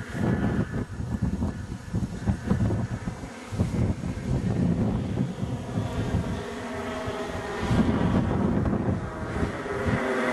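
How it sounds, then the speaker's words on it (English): A model Stuka airplane's engine drones steadily in flight under heavy wind noise, loud and close to the microphone throughout. "Sounds like a bloody real plane"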